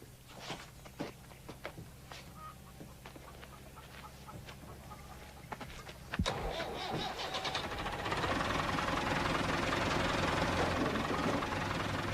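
A bus engine turns over and catches partway through, then settles into a loud, steady running rumble. Before it starts, scattered footsteps and small knocks sound nearby.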